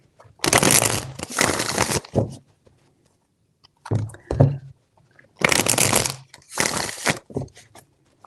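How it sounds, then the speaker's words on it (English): Tarot cards are riffled and shuffled by hand in two long rustling bursts with a short flurry between them, close up, separated by brief silences. "4 shuffles."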